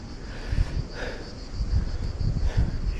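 Steady wind buffeting the microphone at a quiet coastal cove near Narlı village, Erdek, low rumbling gusts rising and falling over a faint background hiss.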